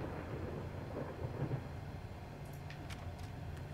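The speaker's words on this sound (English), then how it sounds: "It's raining." Steady rain and distant thunder rumble in the video game Layers of Fear, heard as a continuous low wash of storm noise with a few faint higher sounds layered in.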